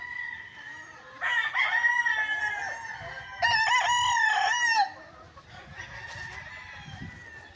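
Breeding hens and gamecocks on a farm lot in Pagsanjan, Laguna, with roosters crowing in several loud overlapping calls amid steady background clucking.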